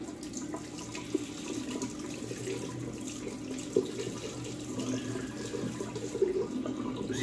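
Water runs steadily from a tap to rinse a safety razor with a Rex-style head during an Indian-style shave, a constant splashing flow with a few small clinks and knocks.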